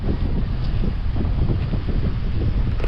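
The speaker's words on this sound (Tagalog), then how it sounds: "lakas ng hangin no?" Strong wind buffets the microphone in a steady, heavy low rumble throughout, with no voices.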